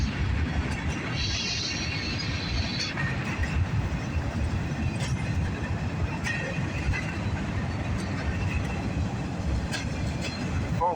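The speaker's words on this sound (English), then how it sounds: "Looks like we got a mixed freight here." A northbound CSX mixed freight train rolls past on the railroad, a loud, steady rumble of wheels and cars that runs for the whole stretch with faint clatter and brief high squeals on top, no talk over it.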